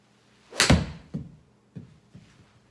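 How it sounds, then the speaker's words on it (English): A golf ball struck on an indoor golf simulator: one sharp, loud thwack followed by a few softer thuds fading over two seconds, close by with no speech. "So let me hit a shot real quick."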